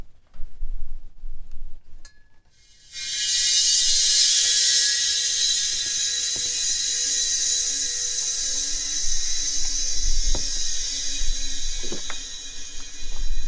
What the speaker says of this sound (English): open up the valve on the recovery machine